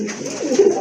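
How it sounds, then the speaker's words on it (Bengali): A male pigeon coos once, close and clear, a short throaty warble rising and falling within a second, with no talk over it. "এই যে দেখেন এটা হচ্ছে আপনার নর কবুতর"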